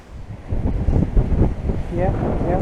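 Strong wind buffeting the microphone at a sea cliff with waves below, loud gusty roaring bursts and a low rushing wash, with a voice briefly heard near the end.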